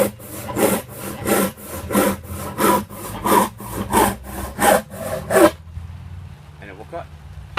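A freshly sharpened ripsaw cuts through wood in a steady rhythm of about ten rasping back-and-forth strokes, close and loud, then stops abruptly.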